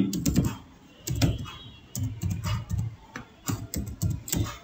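Keys clatter on a computer keyboard during data entry in Tally accounting software, in short bursts of quick clicks separated by brief pauses, close and clear with no talking.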